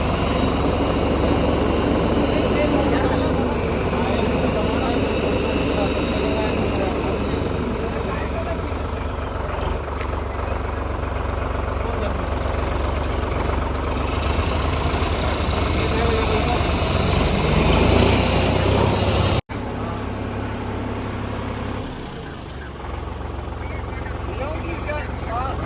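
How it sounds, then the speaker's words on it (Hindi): A Mahindra Yuvo 585 tractor engine runs with a steady, loud diesel drone that lasts the whole clip. Near the end the sound briefly cuts out and then resumes. "अब देखते हैं गाड़ी स्टार्ट करने के बाद में फाइनली पहले कंप्रेसर बनाएगा"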